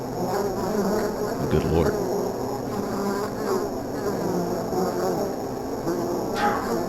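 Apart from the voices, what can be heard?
bees buzzing, audio sample in Home Safety Hotline video game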